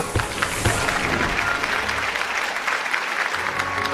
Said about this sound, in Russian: Я не пойму, чему вы все аплодируете.